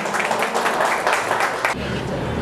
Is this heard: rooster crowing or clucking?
no